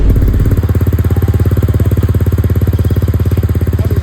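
A Honda Click 125 scooter with an aftermarket exhaust idles loud and close, a fast, even burbling pulse that holds steady throughout, opening with a brief blip of throttle.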